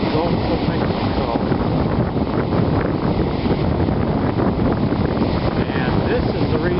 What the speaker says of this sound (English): The wind is producing some pretty amazing waves.